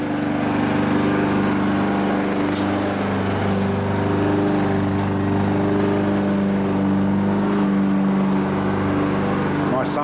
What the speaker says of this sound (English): My son mowing the yard.